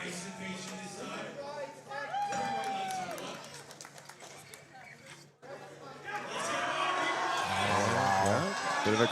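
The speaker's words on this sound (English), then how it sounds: "Crowd's getting behind her." A crowd at a Canadian powerlifting nationals rises into cheering and shouting for a woman lifter's squat attempt, building to a loud, sustained roar, with a commentator talking over it.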